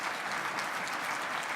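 Audience applause at a British Columbia event where Premier John Horgan is speaking, a dense, even clapping from a crowd lasting the whole brief moment.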